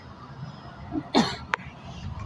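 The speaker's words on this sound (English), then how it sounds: "I don't have my mic on, so I didn't cough on them" A single sharp cough rings out close by, followed by a brief throat noise, against a quiet room.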